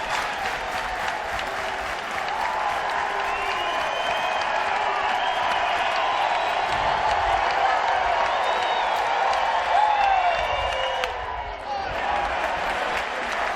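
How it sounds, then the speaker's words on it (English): A 12,000-strong home crowd at Baum-Walker Stadium roars and cheers during an NCAA tournament baseball game between Arkansas and NC State, a dense, sustained, loud wall of applause and shouting that swells and dips slightly without pause. "The noise becoming deafening at Baum-Walker Stadium."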